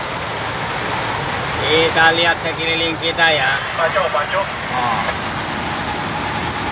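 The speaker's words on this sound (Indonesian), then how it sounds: "Buka main derasnya badai hujan nih teman-teman ya." Heavy rainstorm pouring down at a mine, a dense steady hiss of rain on surfaces with low rumbling underneath, while someone talks over it.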